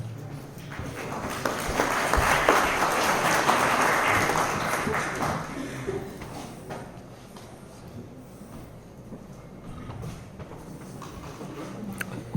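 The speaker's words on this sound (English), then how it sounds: "I was monitoring the amount of clapping when you heard Helping Hand." An audience at a youth conference in San Diego claps together, a broad wash of applause that swells over the first few seconds and then thins to scattered, quieter clapping with some room noise underneath.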